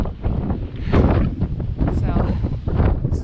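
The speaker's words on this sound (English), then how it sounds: "it's quite windy" Gusty wind buffets the microphone on a mountain summit in New Hampshire's Carter Range, a steady, roaring rush with rises and dips, loud and close throughout.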